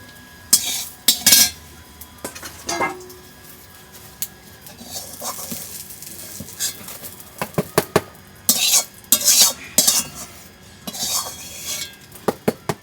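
Boiled taro corms being stirred slowly in a pan while they fry, with scraping utensil clinks in bursts, bright clattering strokes and soft sizzle between them; no talking.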